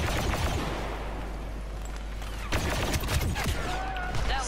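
DH-17 blaster fire in the Star Wars Battlefront II shooter, a loud continuous barrage of rapid energy shots with heavy low rumble and battle noise throughout.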